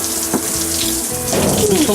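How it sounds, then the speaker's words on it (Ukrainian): Water gushes steadily from the shower tap of a solar water heater, a loud, continuous splashing stream that grows fuller partway through, with no talking. "Душова ручка, кран. Открываем. Вода пошла."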